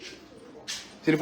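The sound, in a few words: pigeons cooing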